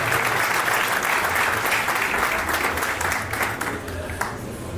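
An audience at a wedding celebration applauds with thick, continuous clapping that is loud at first and gradually thins toward the end, with faint crowd murmur beneath.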